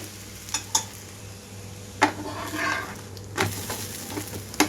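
Bobbarla dosa, a thin black-eyed pea batter dosa, sizzles on a hot pan after being flipped, a soft steady frying hiss broken by a few sharp clinks and scrapes of a spatula, close and without talk.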